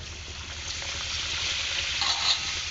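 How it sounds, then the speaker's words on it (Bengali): Papad fries in hot oil in a wok, a steady crackling sizzle with brighter bubbling bursts near the end and no one talking. "এবার আমি সেই কড়াইতে সেই তেলের মধ্যে পাঁপড় ভেজে নেব।"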